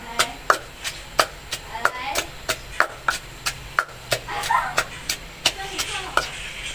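Steady rhythmic pounding thuds in a mortar and pestle, preparing mackerel curry for Thai rice noodles, about two strikes per second, close and crisp with faint background voices.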